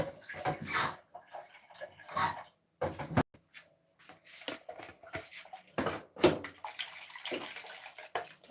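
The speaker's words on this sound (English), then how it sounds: "Just a little bit of water to rinse this out." Water splashes and sloshes in bursts as a container is rinsed out after making homemade coconut milk, with short irregular pours and swishes separated by quiet gaps, close and fairly soft.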